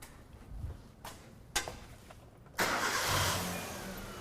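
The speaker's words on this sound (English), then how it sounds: "Let's see if it starts up now." A car engine cranks with a few short bursts, then catches and settles into a steady, fairly loud run. The car had an intermittent stumble, rough running and stalling.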